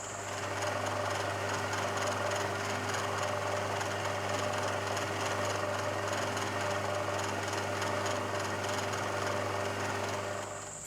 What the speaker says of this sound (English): Got a bit of machining to do on the other side, 2 more holes to drill